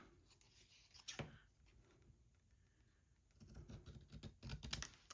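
Paper being cut with scissors while shaping circles for layered craft pockets, soft snipping and rustling in two short bursts separated by a quiet pause, close and fairly faint, with no talking.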